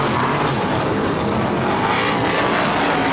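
BriSCA F1 stock cars racing at Mildenhall Stadium, a dense continuous roar of loud engines filling the whole stretch, with no break or voices standing out.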